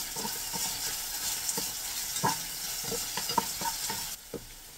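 Salted potatoes fry in a pan and are stirred. A continuous soft sizzle carries scraping stir strokes and small clinks, then quietens briefly near the end.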